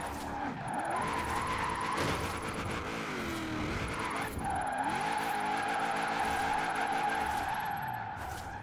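Car drifting in the video game Forza Horizon 4, engine revving up and down through wavering pitch while tyres screech almost continuously, loud and close with a brief dip before the squeal resumes, no talk.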